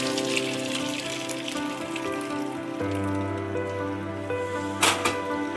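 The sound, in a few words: straining curdled milk to make paneer for rasmalai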